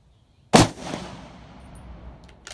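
A single sharp crack from a Savage 110E bolt-action rifle in .270 Winchester fired on an outdoor long-range range, loud and close, followed by a long fading echo across the open ground, with no voices.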